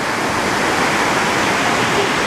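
A loud, steady roar of a waterfall and rushing river water close by, a dense continuous wash of white noise with no talking.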